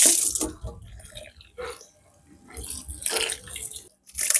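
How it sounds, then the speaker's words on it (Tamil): Water poured onto grated coconut while making thothal, a sweet coconut confection, producing a splashing, trickling pour in bursts with brief pauses, heard close up in a home kitchen. "இப்போ வந்து நாங்கள் தேங்காய் பூவில் வந்து தண்ணி ஊற்றி கொள்ளுவோம்"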